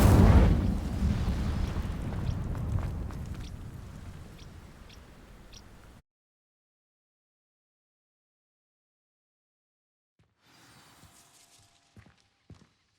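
An Incendio fire spell ignites dry vines in the Hogwarts Legacy video game: a loud whooshing burst with crackling that fades over several seconds and cuts to silence, followed by faint scattered rustles and soft clicks.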